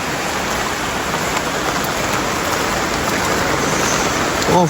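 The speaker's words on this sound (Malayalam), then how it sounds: "എന്തൊരു മഴ ഇത്" Heavy rain pours steadily in a dense, continuous wash of drops, loud and close throughout, with a brief voice near the end.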